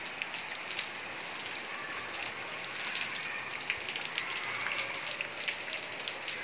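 Heavy rain pours down in a dense, steady hiss, with scattered sharper drops pattering on nearby surfaces and no talk.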